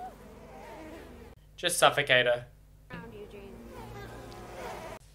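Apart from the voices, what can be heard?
bees buzzing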